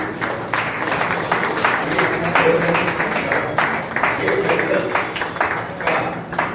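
Audience applause at a Hindi-language magazine launch and award ceremony, a steady wash of many hands clapping throughout, fairly loud and continuous with some crowd murmur underneath.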